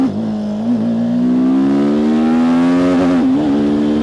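A TVS Apache RTR 310 sport motorcycle revs hard and climbs steadily in pitch, with a quick-shifter gear change near the end before it keeps pulling, loud and close.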